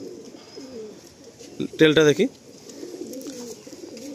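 At a pigeon sale in Kolkata, a single loud, close coo rings out for about half a second amid faint surrounding bird noise, with someone speaking on either side of it.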